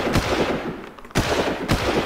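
Gunfire in the Far Cry video game during a beach assault: loud, dense bursts of shots in quick succession, a brief lull, then more sharp reports close by.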